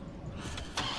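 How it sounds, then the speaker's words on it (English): A car engine turning over and catching in the Resident Evil 3 video game, a brief burst of cranking that rises into a louder rumble over steady background noise. "get the car started"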